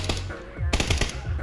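Rapid bursts of automatic gunfire in the battle royale video game PUBG, loud, close and sharp, with a short pause before a second cluster of shots.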